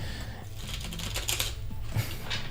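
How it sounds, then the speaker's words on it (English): Tarot cards are shuffled close by in a series of quick, soft riffling clicks and flutters that repeat unevenly, fairly quiet against a low background hum. "I'm just shuffling for Deanna."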